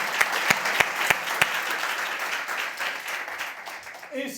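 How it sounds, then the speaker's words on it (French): Audience applause at an interview event, opening with a few sharp, evenly spaced single claps before settling into a continuous round of clapping, with some voices mixed in. "une petite main d'applaudissement"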